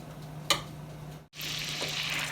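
Butter sizzling in a pan as it melts before a steak goes in, a steady soft frying hiss with a brief clink early on and a short gap midway.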